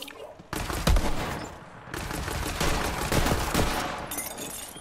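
Shotgun blasts from Borderlands 3 on PS4, several loud booming shots in quick succession amid dense game noise, with a brief quieter gap after the first blast.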